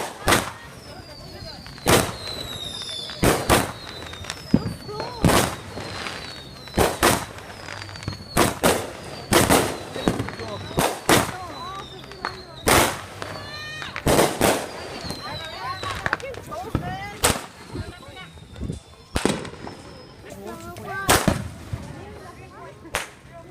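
Sharp, loud fireworks bangs and crackles for July 4th, going off in irregular bursts every second or two, with whistling rockets and people talking and shouting in between.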